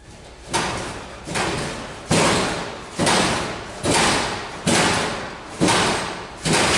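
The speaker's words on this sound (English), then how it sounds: "In the video, we can see doors in the distance shutting by an unseen force." Heavy doors shutting in a building, picked up by CCTV, give a steady run of about eight loud thumps and slams spaced under a second apart, each followed by a lingering boom over constant background hiss.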